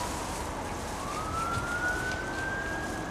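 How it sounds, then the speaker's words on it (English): Emergency vehicle siren wailing outside, a single rising tone swelling steadily over constant road and traffic noise, heard from a distance with no talking. "there's been a lot of sirens going off recently"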